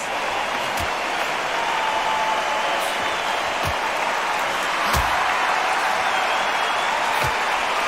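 Steady arena crowd murmur from a boxing video game bout between Tyson Fury and Deontay Wilder, a dense continuous roar with occasional brief thuds and clicks rising out of it, no talk.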